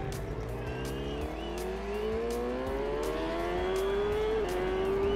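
Superbike racing around the Isle of Man TT course in a video game, the engine revving continuously and climbing in pitch through the gears, loud and close with rhythmic ticks over a steady road roar.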